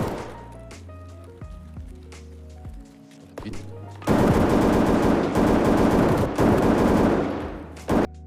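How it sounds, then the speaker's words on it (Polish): Bursts of automatic gunfire from the video game Escape from Tarkov, loud and dense after a quieter stretch of scattered game sounds, with voices talking underneath. "Szczur usłyszał strzały."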